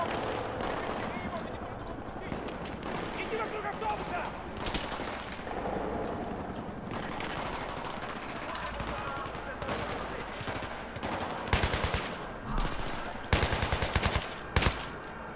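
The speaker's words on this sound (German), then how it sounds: "Ich knall mal ein bisschen rum hier." Gunfire in the video game Battlefield 3: bursts of rapid automatic shots and scattered single cracks over a dense battle din, with sharper volleys near the end, while a player talks over it.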